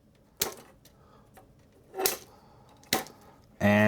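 Small plastic 1/48 ICM Hampden ammo can parts are snipped off the sprue with cutters, giving three sharp, close clicks spaced about a second apart. A voice starts just at the end.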